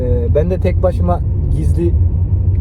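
Low, steady road rumble and engine drone fill the cabin of a Volkswagen Jetta MK5 on the move, with people chatting and laughing over it.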